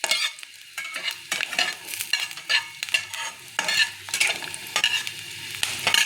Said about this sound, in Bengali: রসুনগুলো হালকা ভেজে নেব।